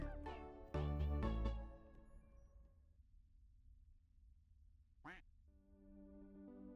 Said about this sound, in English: This should be some good squawking.